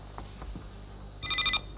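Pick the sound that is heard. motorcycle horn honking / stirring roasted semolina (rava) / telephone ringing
telephone ringing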